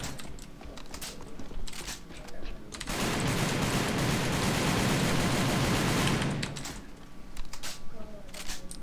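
Rapid sustained burst of M14 Battleship gunfire in the shooter game AVA, a dense three-second stream of shots surrounded by scattered single clicks and quieter game noise, with someone talking over parts of it.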